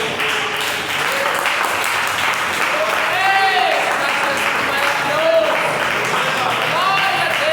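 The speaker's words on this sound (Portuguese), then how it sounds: "dê uma salva de palmas" Sustained applause from a church congregation during a sermon, steady and fairly loud throughout, with a few voices and brief tonal sounds rising over the clapping.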